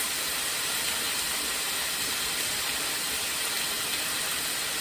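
Meat searing in a hot pan for keto Pad Prik King, a steady loud sizzling hiss with no breaks and no talking.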